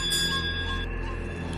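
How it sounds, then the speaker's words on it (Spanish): A bell rings with sustained metallic tones that hum and decay, loud and near, with no talking. "el ruido, ese ruido nefasto de las campanas moviéndose"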